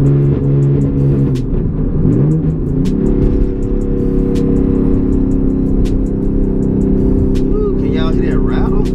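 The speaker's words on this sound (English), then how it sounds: "Ooh, can y'all hear that rattle?" A Genesis Coupe 3.8 engine revs loudly nearby with a droning tone that dips and then climbs, plus a faint rattle running through the steady roar. Voices speak briefly over it.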